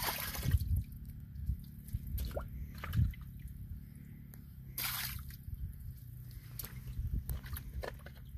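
Water leaks from a loose valve, with irregular drips, squishes and splashes spread through steady low background rumble, fairly close and soft.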